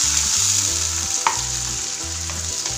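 Small onions sizzle and fry steadily in hot oil with mustard seeds for a Tamil-style potato fry, a continuous close crackle with a few stirring clinks and no voices.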